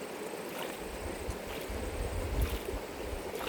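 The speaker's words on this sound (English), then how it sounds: "by swirling round, just moves the top of the water" Water sloshing and swirling gently in a shallow gold pan while panning, a soft continuous wash with low rumbles, no talking.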